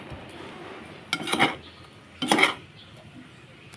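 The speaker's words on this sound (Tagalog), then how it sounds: "Tapos haluin lang natin." Pork adobo with vinegar, soy sauce, whole peppercorns and bay leaves being stirred in a pot: two short bursts of utensil clanking and scraping against the pot, separated by quiet, fairly close and moderate in level.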